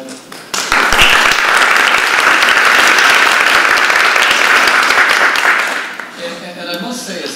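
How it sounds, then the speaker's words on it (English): An audience at a multistakeholder privacy forum gives the panel a loud, sustained round of applause, a dense burst of clapping that rises quickly, holds for about five seconds, then tapers off as a voice begins speaking. "Can we just have a big round of applause for the panel?"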